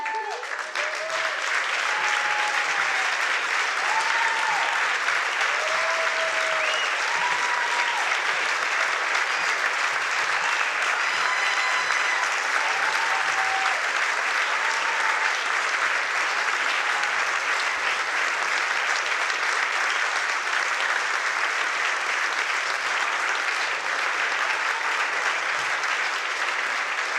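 Audience applause for a director at a stage production, a dense, steady wash of clapping lasting nearly half a minute with faint voices and cheers woven through.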